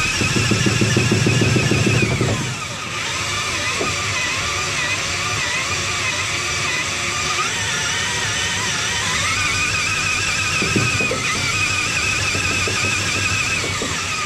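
A 20-volt battery-powered engine on a weight-reduced project vehicle whirs and strains while trying to spin the tires; a loud, continuous drone with a rougher burst at the start, close by, with no talking.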